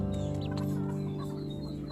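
A caged chicken clucks close by in a run of quick, repeated clucks over a steady low background hum.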